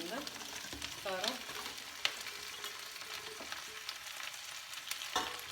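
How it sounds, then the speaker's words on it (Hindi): Pre-fried chicken tipped into onions in a pan for chilli chicken fries with a constant soft sizzle and crackle, broken by occasional utensil clinks, close but fairly quiet. "तो अब हम इसमें जो ये हमने फ्राई करके चिकन रखा हुआ है हम ये डाल देंगे इसके अंदर सारा।"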